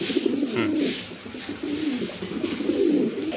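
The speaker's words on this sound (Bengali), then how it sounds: "আরেক জোড়া কবুতর মাশাআল্লাহ, ক্রিম বাল্লা হবে না ভাই?" A pair of cream balla pigeons coo in low, rolling, repeated calls, close and continuous, with a faint background murmur.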